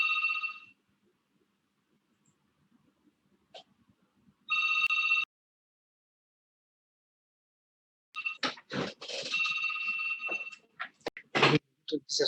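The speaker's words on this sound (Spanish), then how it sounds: "Empieza a sonar el teléfono." An office or desk telephone rings with two short electronic bursts, then rings again under a speaking voice in a classroom-style lecture setting.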